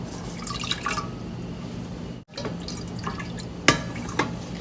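Plain water is poured into coconut milk in a pot for tom kha gai soup, giving a steady close liquid trickle with brief splashes and a short pause midway.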